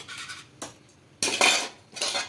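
Spoon clinking and scraping against a metal pot while cornflour is stirred into bread malai, several short bursts of clatter with brief pauses, close and fairly loud, no talking.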